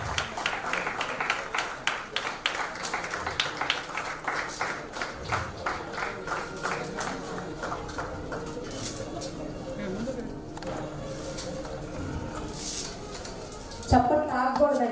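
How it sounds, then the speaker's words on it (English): An audience claps at a chapter launch event in Vijayawada. The clapping starts as quick, rhythmic applause, then thins into scattered claps. A speaker keeps talking over it, and there is some clinking in the background. "చప్పట్లు ఆగకూడదండి, అది ఓపెన్ చేసేంత వరకు చప్పట్లు ఆగకూడదు."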